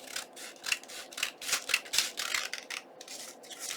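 Scissors trim paper flush with an envelope while a junk journal is made, a close run of quick crisp snips and rustling cuts in steady rhythm.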